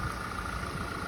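A 2009 Ford Ranger pickup with 43,000 miles idles in a brief, steady low engine rumble mixed with light background noise.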